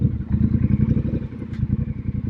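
Triumph Bonneville Bobber motorcycle engine rumbling steadily as it rides slowly around a parking lot at a dealership, with a continuous low pulsing throb held at close range throughout.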